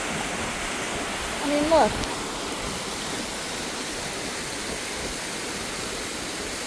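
Small waterfall, Cascada Apote, seen from a high viewpoint after a hard climb, gives a steady broadband rush of falling water throughout, with a woman's brief remark cutting in over it.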